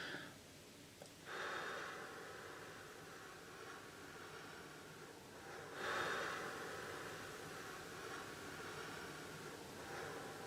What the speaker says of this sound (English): I think what she's doing is exhaling, blowing her lips out as she does it